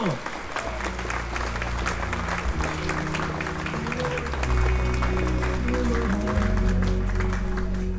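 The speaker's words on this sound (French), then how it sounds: "Applaudissements" Applause from an audience at the Golden Globe Race 2022 prize giving, steady and moderately distant, with a low musical tone running underneath.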